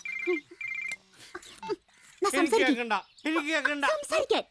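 A telephone rings in a Malayalam film scene: two short electronic ring bursts come first, then voices talk over the quieter background.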